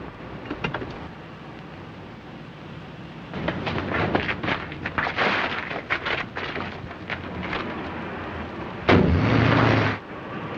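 An explosion sound effect in a radio crime drama, heard as a sudden loud burst of roaring noise near the end, after a stretch of rumbling, crackling blasts that come and go in the background.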